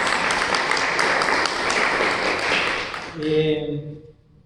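Seminar audience in Pachuca gives a round of applause, a dense sustained patter of many hands that dies away near the end, leaving a voice speaking alone.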